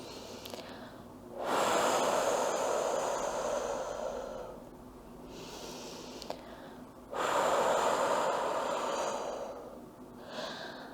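A person doing slow anxiety-calming breathing: two long, loud, airy exhalations through the mouth, each lasting several seconds, with softer inhales between, close to the microphone and alone.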